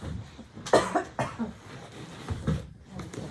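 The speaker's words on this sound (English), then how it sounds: "Cough." A few short, soft coughs in quick succession, close to a microphone during a casual chat, separated by brief breaths and quiet gaps.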